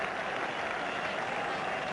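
Sustained applause from a cricket crowd at Lord's greeting a batsman's century in a 1986 India versus England Test, a steady, dense wash of clapping filling the whole stretch with no break.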